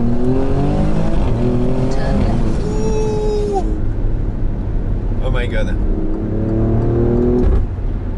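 Alfa Romeo Stelvio Quadrifoglio SUV in race mode with exhaust valves open, accelerating in second gear in manual in Dubai, its loud engine rising in pitch through revs with a gear change, while a man exclaims in the cabin.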